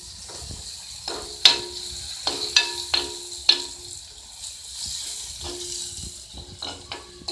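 Tomatoes and mixed vegetables sauté over a small flame in an earthen pot, giving a soft steady sizzle broken by several sharp scraping and clinking stirs, close and alone.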